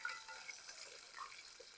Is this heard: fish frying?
yes